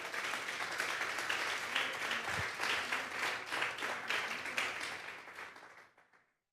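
A church congregation applauds steadily during a Sunday service, the dense clapping holding loud and even for several seconds before fading out at the end.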